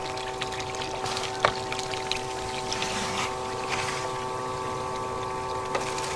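A Goldrop gold concentrator runs water over tailings with a steady pouring trickle and a constant mechanical hum, with occasional small knocks and splashes, moderately faint and without voices.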